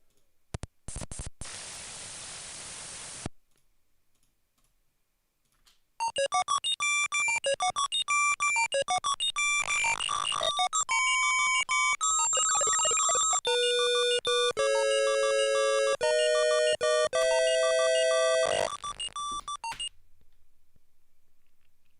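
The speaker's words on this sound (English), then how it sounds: "Oh, you want to hear horrible music?" Harsh chiptune music from an Atari Lynx handheld game: a burst of static and beeps, a short pause, then loud, shrill, steady square-wave melody lines that step through changing notes and run on alone for about fifteen seconds.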